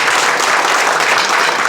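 A hall audience at the founding event of a Mungyeong civic forum applauds Mayor Shin Young-guk, a dense, loud and continuous burst of clapping from many hands close by, with no voices.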